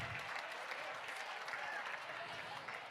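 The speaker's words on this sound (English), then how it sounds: "Let's give them a great big round of applause for being here with us tonight." Sustained audience applause fills a gala fundraiser hall, a steady dense wash of clapping from many hands that holds at an even level throughout with no break.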